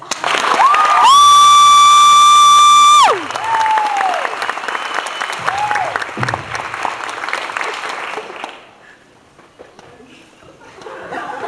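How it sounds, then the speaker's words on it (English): Live audience applause and cheering for the speakers, a loud sustained burst of clapping with a high whistle or squeal, followed by a voice talking and laughter, the clapping fading out toward the end. "give our speakers a big round of applause"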